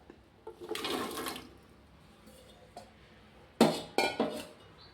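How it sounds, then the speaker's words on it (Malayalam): Chopped pumpkin pieces dropped into a pot of cooked lentils with some water, a wet rushing splash followed by a few sharp clinks and knocks against the metal, close and fairly quiet. "ഇതിലേക്ക് നമുക്ക് അരിഞ്ഞു വെച്ചിരിക്കുന്ന മത്തങ്ങ കഷ്ണം കൊണ്ട് ചേർത്ത് കൊടുക്കാം"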